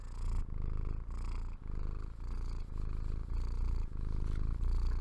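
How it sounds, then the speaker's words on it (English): A cat purrs close to the microphone, a low steady rumbling purr that pulses in even breaths for several seconds, with no talking over it. "Can you purr into the microphone for everybody?"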